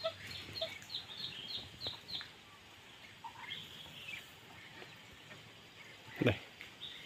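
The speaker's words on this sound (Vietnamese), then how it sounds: "Và đây là con gà lôi của mình." A captive pheasant gives scattered clucks and short calls at close range over a quiet rural background, with several brief bursts early on and a louder, sharper call near the end.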